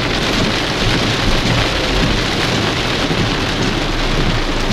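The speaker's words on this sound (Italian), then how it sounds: "E la pioggia intanto continua." Heavy rain pours steadily during a cyclone storm over a town in Gricignano, Italy. It is a dense, loud, unbroken hiss of downpour with no voices.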